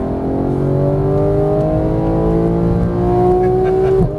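A Porsche 911 GT3 of the 991 generation accelerating at full throttle on a race track, loud interior engine howl rising steadily in pitch through one long pull, heard alone.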